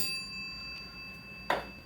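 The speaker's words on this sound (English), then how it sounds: "freshly polished bell always sounds a little better, doesn't it?" A freshly polished bell on a restored Spanish Eyes electromechanical pinball machine strikes once, a sharp bright ding near the end that rings out briefly over a faint hum.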